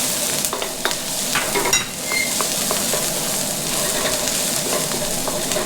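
Garlic frying in a pan over medium-high heat while lumpia filling is made, a loud, dense, continuous sizzle with faint stirring taps throughout and no talking.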